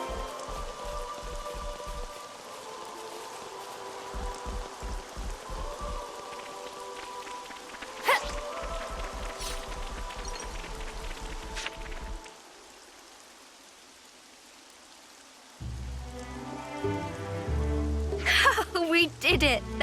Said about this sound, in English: Now we wait for the rain.